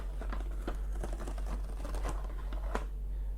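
Glued tab on a Google Glass box being pulled open, a close, quiet run of crisp tearing and crackling paper sounds over a low steady hum, with no talking.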